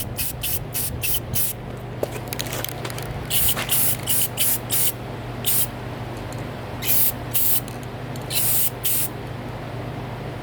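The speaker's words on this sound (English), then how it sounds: "so you need to throw a coat of paint on them" An aerosol can spraying paint onto car parts for an LS-swapped Miata, a series of short hissing bursts in an uneven rhythm over a low steady background hum.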